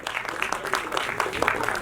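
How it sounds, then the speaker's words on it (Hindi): Audience clapping at a song launch event honouring senior artists, a dense, steady patter of many hands from a nearby crowd with voices mixed in. "एक बार जोरदार ताली होनी चाहिए"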